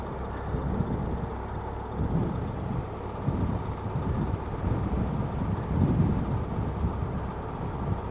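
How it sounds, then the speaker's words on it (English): Strong, steady wind buffets the microphone on a narrowboat, a continuous low roar with gusts swelling and easing every couple of seconds. "As you can see, it is extremely windy."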